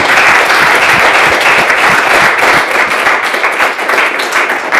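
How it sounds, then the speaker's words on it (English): Dense, loud applause fills a room as an audience claps steadily for a talk, a continuous wash of hand claps with no voices rising above it. "You deserve the applause."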